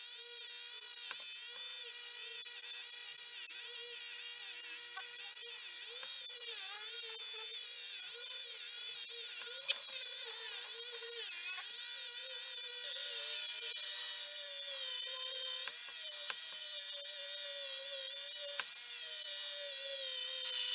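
A rotary tool whines in a steady, high-pitched run while polishing the surfaces of a Ruger Mark III 22/45 magazine. Its tone wavers slightly under load and a few small scrapes come through, close up with no talking.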